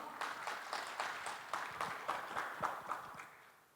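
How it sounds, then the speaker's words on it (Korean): An audience at an innovation expo presentation claps steadily to welcome a presenter, a moderate crowd's applause with distinct claps at an even pace that fades toward the end. "여러분 박수로 맞이해 주십시오."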